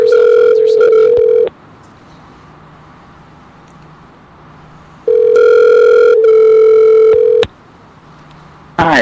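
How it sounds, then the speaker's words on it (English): Telephone rings on a live call-in stream, two loud electronic ring bursts separated by a few seconds of quiet, the second ring cutting off sharply as a caller joins. "hopefully we will hear ringing noises."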